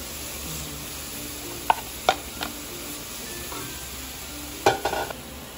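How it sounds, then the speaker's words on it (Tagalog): Bukayo filling cooks in a pan with burnt sugar: a low, steady sizzle with a spoon occasionally scraping and tapping the pan, a few sharper clinks standing out near the end, no voices. "dito na din po tayo magluluto ng bukayo"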